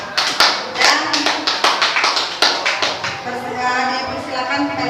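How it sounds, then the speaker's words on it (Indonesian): A classroom audience claps for a presenting group: a lively burst of many hands clapping, sharp and close, tapering off after about three seconds while faint voices continue. "Untuk kelompok 4 kita kasih aplaus"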